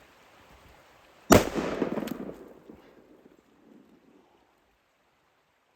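A single loud rifle gunshot cracks out while hunting in Hells Canyon, followed by a rolling echo that fades over the next couple of seconds against a quiet outdoor background.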